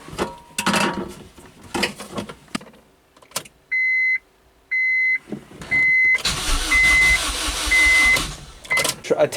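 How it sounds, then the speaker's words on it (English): An Acura RSX with a swapped K20Z1 engine goes through repeated dashboard beeps and chimes, then the starter cranks with a loud, steady whirring and no firing, close by and without talk. "Attempt to crank it and fire it up, but it didn't work, unfortunately."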